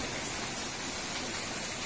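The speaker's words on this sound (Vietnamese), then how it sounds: "Hiện trời mưa lớn," Heavy midday rain pours steadily onto surfaces around a Mekong Delta roadside cafe in Vietnam, a dense, even hiss that stays loud and unbroken throughout, with no voices.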